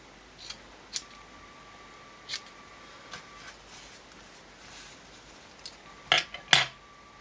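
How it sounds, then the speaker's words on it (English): Scissors snip roughly through paper while cutting out a trifold envelope. The cuts come as a handful of sharp, irregular snips, close by and fairly quiet, with the last two coming in quick succession and no talking. "going to just very roughly cut this out."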